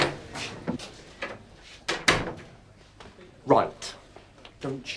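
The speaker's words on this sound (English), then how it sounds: "Close the door." A wooden door thumps shut once in a police station office, landing among the sounds of people talking and moving in the room.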